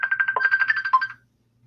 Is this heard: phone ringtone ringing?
yes